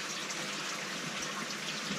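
Water splashes steadily from a koi pond shower, a continuous close hiss and patter with small surges, heard alone without talk.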